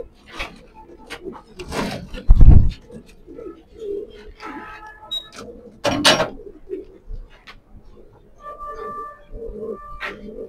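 Short-tailed pencil-balance pigeons coo softly in bursts amid scattered knocks and rustling from handling, with a few clearer tonal coos near the end.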